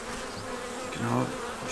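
Honey bees at a hobby apiary hum in a close, wavering drone, with one louder buzz swelling briefly partway through over a softer background hum.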